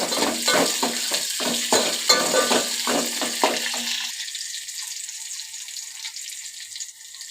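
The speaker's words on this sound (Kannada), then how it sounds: "ಅದಕ್ಕೆ ಸಾಸಿವೆ, ಸ್ವಲ್ಪ ಜೀರಿಗೆ ಹಾಕಿ ಈರುಳ್ಳಿ ಫ್ರೈ ಆಗೋದು" Onions frying in oil with mustard seeds and cumin for a drumstick sambar, giving a steady sizzle with repeated stirring scrapes for about four seconds before the stirring stops and a quieter hiss continues.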